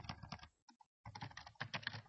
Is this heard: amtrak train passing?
no